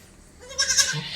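A goat for sale at a livestock sale gives one short, nasal bleat, close and fairly loud, rising out of a quiet background.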